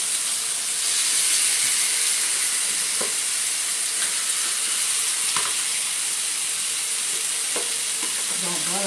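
Salmon fries in a hot pan with a loud, steady, hissing sizzle, broken by occasional soft scrapes and stirring clicks, close up and with no voices.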